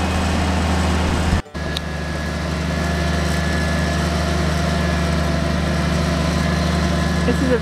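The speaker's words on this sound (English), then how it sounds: "got the boom lift and starting to position it so that he can get to the ridge peak" A boom lift's engine runs steadily at a roof-building site while the lift is positioned toward the ridge peak of a metal roof, a constant loud low drone with a brief dropout early on.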